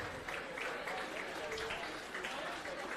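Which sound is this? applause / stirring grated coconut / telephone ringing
applause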